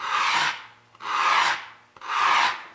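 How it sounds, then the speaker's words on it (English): Plastic motorcycle fender being lightly scraped to remove scratches, three long, even rasping strokes at close range with short pauses between them, no voice. "I'll just lightly start scraping away here."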